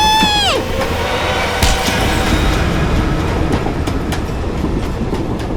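Moving train rumbling loudly and continuously, with rhythmic clatter of wheels over rail joints and a falling whistle-like tone at the start.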